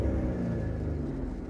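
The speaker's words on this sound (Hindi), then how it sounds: "गाइस, गाड़ी को करते हैं स्टार्ट।" A Skoda Rapid with a 1.0 TSI three-cylinder petrol engine, heard as a steady low engine drone and rumble that stays level for a moment, close and moderately loud, with no voices.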